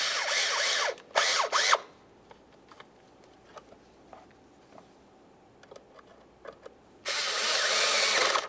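Bursts of a power driver or ratchet tool snugging down the small mass air flow sensor mounting bolts on a Ford Ranger 2.3L, three whirring runs separated by quieter clicks and handling noises.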